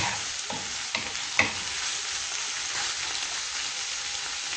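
Chard and spinach frying in a pan with meat and onion, a steady close sizzle with a few soft stirring knocks, with no talk.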